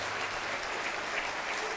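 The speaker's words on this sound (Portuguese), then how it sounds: "Quero que você dê uma salva de palmas para esta palavra" A church congregation applauding during a sermon, dense and even clapping from many hands that stays loud and continuous throughout with no speech on top.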